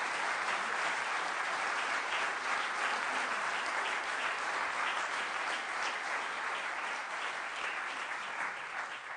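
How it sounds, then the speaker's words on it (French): An audience applauds the volunteers at a conference, with steady, dense clapping that holds at an even level for about nine seconds and eases slightly at the end. "je propose qu'on les applaudisse un petit peu"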